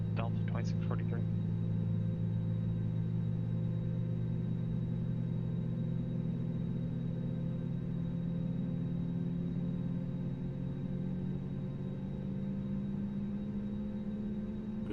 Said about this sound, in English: some nice good engine start sounds in this plane here